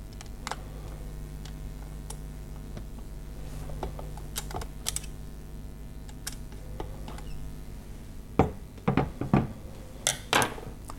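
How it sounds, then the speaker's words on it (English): Microscope eyepiece tube being unscrewed and lifted out, with scattered light clicks and ticks of metal threads, then a sharper cluster of knocks and taps near the end, close and fairly quiet. "For the analyzer, you have to unscrew the eyepiece tube completely."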